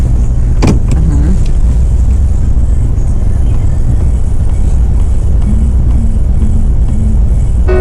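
A car reversing during a driving lesson gives a loud, steady interior engine and road rumble, with a sharp click early on and a faint whine later, no talk heard.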